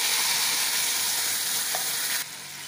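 Coconut frying in a pan with whole spices for prawn malai curry, a bright steady sizzle that stays loud before dropping off sharply near the end, no voices present.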